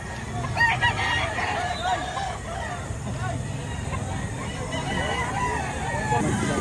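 Roosters, about seven to eight months old, crowing and clucking amid a busy, noisy crowd at a gamefowl market in Lipa, Batangas, with people talking in the background.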